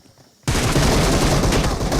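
Dense rapid gunfire from a shooting video game bursts in suddenly after a quiet moment and continues loud and sustained, with overlapping shots and blasts.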